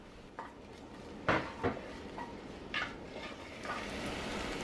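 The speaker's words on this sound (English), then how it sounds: "Add the onion and stir. Keep them moving so they don't burn." Onion stirred in hot olive oil in a pan for Japanese curry buns, a quiet sizzle with several sharp utensil clinks and scrapes against the pan, no talk.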